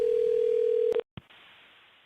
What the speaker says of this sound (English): We're going to get Helena on the line, see if we can patch her in